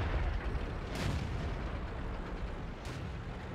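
Tank cannon fire in World of Tanks, in a match with a T20 Tier VII medium tank, gives a muffled distant boom followed by a second faint report over a steady rumbling engine bed.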